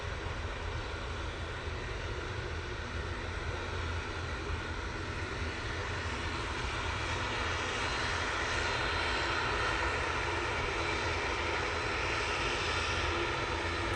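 A TUI airliner arriving from Cancun at Manchester Airport passes as a steady jet engine roar that swells slightly toward the end, distant to moderate in level, with no talk.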